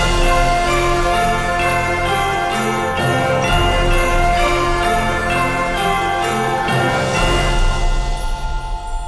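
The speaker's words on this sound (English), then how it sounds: "we're gonna learn how to compose a Christmas song that sounds like this" An orchestral Christmas song plays steadily and fairly loudly, with full sustained harmony and bright jingling over it, building slightly toward the end.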